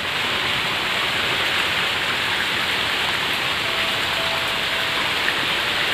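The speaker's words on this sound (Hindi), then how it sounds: "बारिश भी स्टार्ट हो चुकी है" Steady rain falling on an open vegetable field of okra and beans, an even dense hiss of drops that stays constant from start to finish with no voices.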